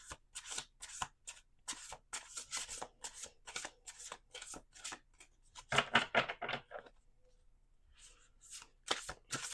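Repeated brisk riffling of playing cards being shuffled, rapid papery bursts in quick succession with a louder flurry partway through, close by.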